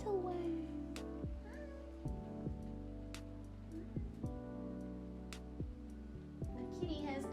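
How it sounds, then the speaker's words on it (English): A house cat named Star, entering a room, gives a few short meows over steady music, with nearby sounds of handling and movement. "The kitty has entered the room, looking for pets."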